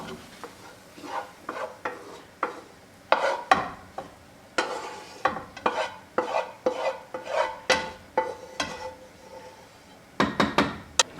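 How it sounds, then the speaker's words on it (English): Sautéed red peppers, shallot and garlic get mixed into a noodle sauce in a pot, heard as a steady run of close spoon scrapes and knocks against the pan, with no talking. "I'll mix this into the sauce."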